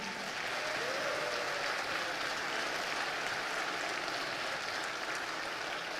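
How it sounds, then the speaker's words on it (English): Steady, distant crowd applause from a town hall audience with Sen. Raphael Warnock, a continuous even wash of clapping without pauses. "Let's give yourselves a round of applause again."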